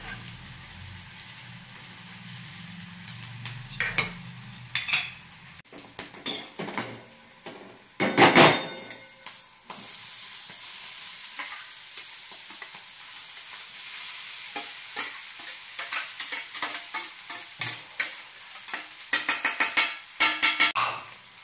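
Curry leaves and turmeric fry in a hot pan with spluttering sizzles and crackles, interrupted by scraping stirs of a spoon, loud bursts mixed with quieter spells of steady frying.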